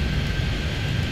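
Jet airplanes taking off in Airport Madness 3D at Miami airport, a steady, unbroken roar of engine noise that holds at an even level throughout.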